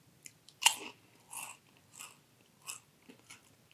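Doritos 3D corn snack being bitten and chewed, one sharp crunch followed by several softer rhythmic chewing bursts close to the mic in a quiet room.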